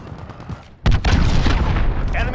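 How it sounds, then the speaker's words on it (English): In Call of Duty: Modern Warfare multiplayer, an enemy cruise missile hits with a sudden heavy boom after a quieter moment, and a loud rumbling blast follows and lingers. "Enemy cruise missile, take cover."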